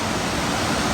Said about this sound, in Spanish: Esto, bueno, es una cascada más o menos.